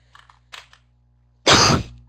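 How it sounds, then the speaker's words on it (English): A single harsh cough bursts out close to the microphone after a few faint clicks and small noises in an otherwise quiet room. "Excuse me, I should be muting when I cough."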